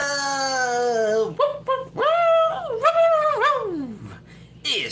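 A dog whines and yips in drawn-out, pitch-bending cries, close and loud, broken into several rising and falling bursts with short pauses, ending in a brief sharp yelp.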